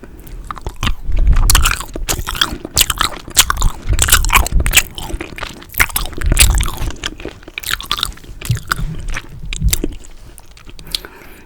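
Haribo Tropifruitti gummy sweets are chewed close to the microphone, with repeated soft, squishy bites and wet chewing in an uneven rhythm, loud and intimate, without any talking.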